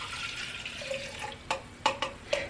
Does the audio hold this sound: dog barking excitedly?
no